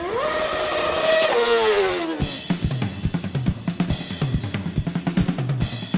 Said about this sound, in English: you have to do a few burnouts to make sure that the surface of the tire is warm enough